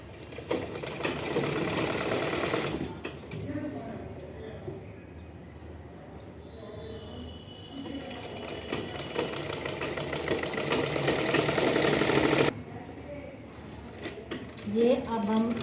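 Sewing machine stitching fabric for a belted pajama, a rapid mechanical whirring run that stops and restarts, with someone speaking over parts of it and between the bursts.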